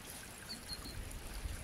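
Water from a rain-fed spring trickles quietly and continuously over rocks, a soft, low-level babble with no voices.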